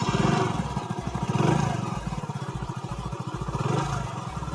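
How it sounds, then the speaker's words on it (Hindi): A Hero Splendor+ motorcycle engine idles close by, its single-cylinder putter steady and rhythmic with a slight rise and fall throughout, with no voices over it. "स्विच ऑन होने के बाद हमारा इंजन स्टार्ट हो गया है"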